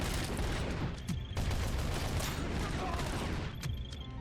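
Sentry gun firing in the video game Robocop: Rogue City, rapid sustained bursts of automatic gunfire with sharp mechanical clatter, dense and loud for the whole stretch.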